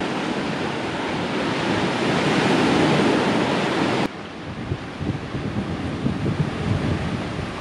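Loud wind gusts over crashing surf on the shore of a deserted island, a dense continuous roar of waves and wind noise with no voices, the texture shifting abruptly partway through.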